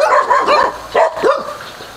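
A dog barks several times in quick succession nearby, short sharp yelps with a slightly whiny edge.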